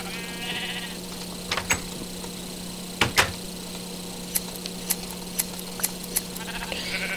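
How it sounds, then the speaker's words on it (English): Sheep in the video game Minecraft bleat in several short, distinct calls spread across the clip over a steady low hum and faint background game sounds, with no talking. "Now I have to go shear them, because that's what Minecraftians do."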